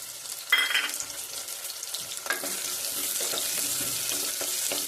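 Two onions dropped into hot oil with bay leaf and whole spices, a sudden splash and burst of sizzle followed by a steady, close, bright frying crackle with occasional stirring scrapes, no talking.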